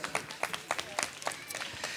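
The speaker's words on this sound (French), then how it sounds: "Applaudissements pour Hortense." Scattered applause at a children's pony racing championship prize-giving for the winning young rider from a pony club, a thin crowd clapping at moderate distance with sharp individual claps and an announcer's voice running over it.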